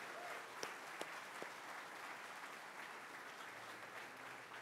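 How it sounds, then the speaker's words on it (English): An audience at the Cherokee Nation State of the Nation address applauds district court judges with steady, fairly distant clapping, scattered louder claps standing out near the start. "Let's give these folks a round of applause."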